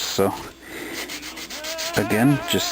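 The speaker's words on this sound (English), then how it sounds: "sand that down smooth on this here trailing edge of the wing" Sandpaper rubs a seam line on the trailing edge of a plastic model kit wing for a Nieuport 17 aircraft, a steady close scratchy rasp, with someone speaking briefly at the start and end.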